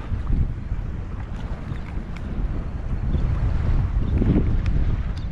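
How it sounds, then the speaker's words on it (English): Wind blows steadily and loudly across the microphone while someone wade fishes in Galveston Bay, a deep rumbling buffet that swells toward the end with no talking. "Casting straight into the wind."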